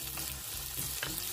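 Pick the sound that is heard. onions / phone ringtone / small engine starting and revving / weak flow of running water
onions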